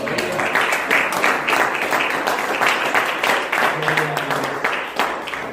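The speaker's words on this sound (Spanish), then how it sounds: "Entonces el Señor le dé un aplauso al Señor" A church congregation claps steadily during a Spanish-language service, a dense, even patter of many hands that carries on throughout and masks any speech.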